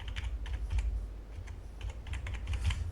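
A mobile number is typed on a phone with a quick, continuous run of faint tapping key clicks over a low background hum, with no one speaking.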